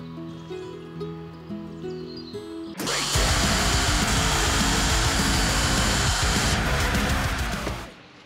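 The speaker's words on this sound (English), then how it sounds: "test out my new plasma gouging tips, you know, and remove some of those wrong welds I did earlier." A plasma cutter gouges out welds on steel. A steady electrical hum comes first, then the torch bursts into a loud, continuous roaring hiss for about five seconds before cutting off abruptly, close by.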